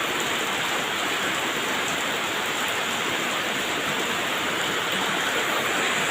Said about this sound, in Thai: บรรยากาศฝนเก่าละพี่น้อง